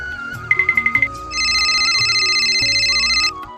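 A phone ringtone plays over a rhythmic Gujarati Timli folk-music backing: a quick run of about eight bright beeps, then a long, steady, buzzing ring tone that holds for roughly two seconds.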